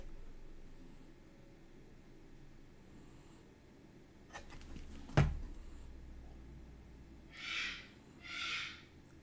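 A bird calls from nearby indoors, two soft hooting notes near the end after a sharp knock, over a quiet hiss.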